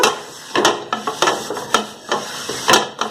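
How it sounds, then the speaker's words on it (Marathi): A hot iron dosa tawa is wiped down with repeated scraping, rubbing strokes, several short bursts close by with faint sizzling between them and no voices. "आता तवा घुसून घ्या"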